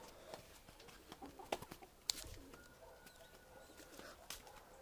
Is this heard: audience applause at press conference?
no